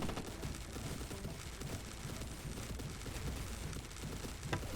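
Automated turrets firing in the Legacy of Defense game, a fairly quiet, continuous rattle of rapid gunfire shots over several seconds amid battle noise, with no voices.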